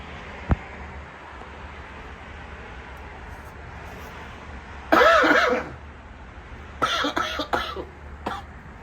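Someone coughs hard after eating very spicy chicken wings: a brief burst near the middle, then a second rougher fit of coughing and throat clearing, heard close over a quiet room hiss.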